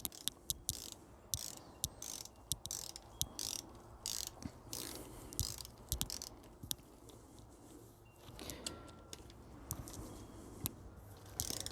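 A hand ratchet tightens the rocker arm bolts on an LS engine, producing quick close clicking runs in repeated short bursts with pauses between strokes, fairly faint, no talking.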